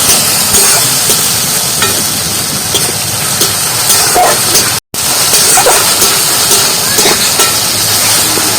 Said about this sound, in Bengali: আর মশলাটা ভালো করে কষে নিয়েছি, আর মশলাটা কিন্তু তেলটা ছাড়া শুরু করে দিয়েছি।